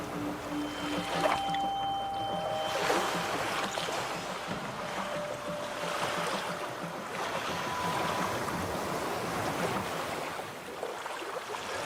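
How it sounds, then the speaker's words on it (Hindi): An old river steamer rumbles slowly along the water, a low continuous churning drone with watery wash and faint distant tones, steady throughout and without voices. "पुराना स्टीमर घरघराहट की आवाज के साथ धीरे धीरे नदी की ओर बढ़ने लगा।"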